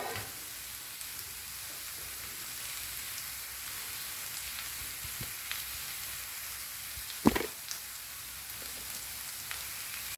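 Papaya thoran with grated coconut sizzles in a pan over high flame, a soft continuous crackle with a sharp knock of the spoon against the pan partway through and no talking.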